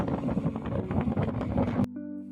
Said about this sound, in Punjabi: ਬਹੁਤ ਠੰਡੀ ਹਵਾ ਚੱਲਦੀ